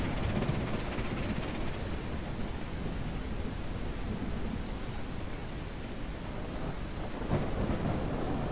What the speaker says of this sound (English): I'm having a hard time hearing myself talk because of how loud the storm